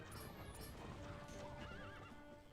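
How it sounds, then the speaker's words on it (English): A startled horse in Zelda: Twilight Princess HD whinnies loudly with clip-clopping hooves over a busy, noisy game soundscape of rumbling and high tones. "Hey, the horse is running in circles. Looks like it's being startled by the bombs."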